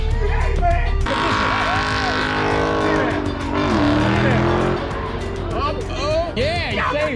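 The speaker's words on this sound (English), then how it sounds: "I am going to try to do a burnout in the C8" A Chevrolet Corvette C8 does a burnout, its engine roaring at high revs while the tires squeal and scrub continuously for several seconds, loud and close, with people talking over it.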